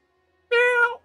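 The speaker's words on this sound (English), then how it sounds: "Some kitty fish go meow." A single short meow from a cat-fish creature in a video game, clear and close with no talk over it.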